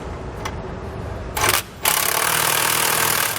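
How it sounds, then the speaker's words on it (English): A 19mm socket on a swivel and short extension tightening hardware for a B and W underbed gooseneck trailer hitch on a 2018 Chevrolet, a steady mechanical whirring drone with a couple of brief louder ratcheting bursts. "we'll take a 19mm socket. You can see I have a little swivel on it and a short extension, and we'll start tightening down our hardware"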